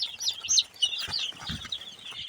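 One-day-old Tiger breed chicks on a poultry farm, high thin peeping chirps repeating in quick overlapping bursts, close by, with a few soft low thumps beneath.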